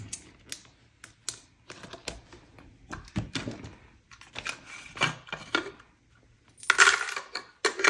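Coins clinking and dropping while cash envelopes are emptied, a close series of irregular metallic clatters and taps with brief pauses, a louder jangling burst near the end, no voices.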